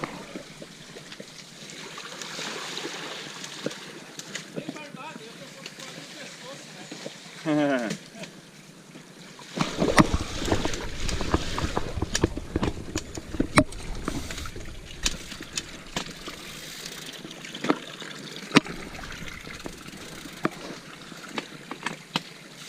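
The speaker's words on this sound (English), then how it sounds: "Riding in the middle of the creek." A vehicle rides down the middle of a creek on an abandoned trail, with water splashing and churning. The sound grows louder and rougher midway, with bursts of splashing and rumble. Voices talk over it at times.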